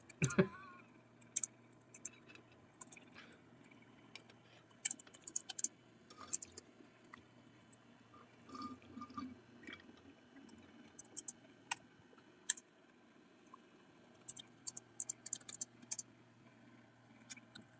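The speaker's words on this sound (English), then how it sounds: "Are we just typing?" Fast, irregular clicks of typing on a computer keyboard come in quiet bursts with short pauses, heard close but faint over a low steady hum.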